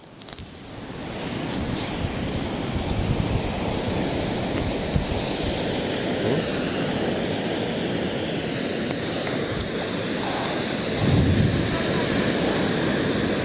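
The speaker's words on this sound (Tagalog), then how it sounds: "May malakas yung alon ngayon guys." Constant rumbling surf from strong waves on Tarangotong beach in Ilocos Sur, a dense wash of water noise with a louder surge near the end.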